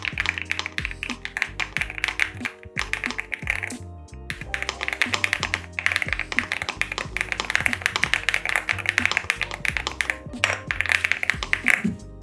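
A Yunzii GEM80 custom mechanical keyboard is typed on quickly and steadily, producing close, creamy, rounded clacks in continuous bursts with a few brief pauses and no talking.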